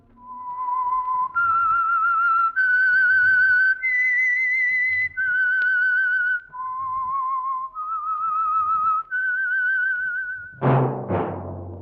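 A lone melodic whistle carries the eerie theme of the Signal Oil Program radio drama The Whistler, a clear rising and falling tune held in long pure notes for about ten seconds, closing with a sudden dense burst of orchestral sound.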